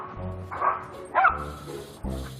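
A dog named Hayes barks and yips in short bursts at another dog, three sharp nearby barks in quick succession with whiny tones between them.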